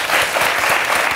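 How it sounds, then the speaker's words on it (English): Audience applause after a live performance, a thick, continuous roar of many people clapping close and loud, uninterrupted for the whole moment. "Merci de l'applaudir."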